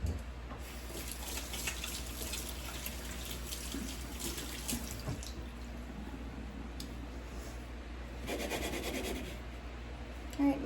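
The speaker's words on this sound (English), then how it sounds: "All right, washing the hands again." Hands are rubbed and rinsed under a running kitchen tap, a steady close hiss of flowing water with soft scrubbing and splashing that thickens near the end, quiet overall.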